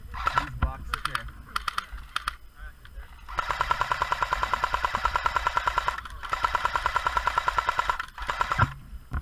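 Airsoft PKM machine gun firing BBs in long rapid bursts, a dense rattling stream of shots that runs for several seconds, pauses briefly, then resumes, with people talking over and between the bursts.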